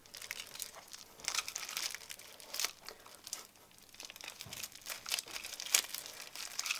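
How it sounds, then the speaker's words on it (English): Crinkling and tearing of a foil packet being opened while loading ribbon and foil into a label printer, a run of dry crackles and rips at close range, fairly quiet, with no one talking. "So just open the packet"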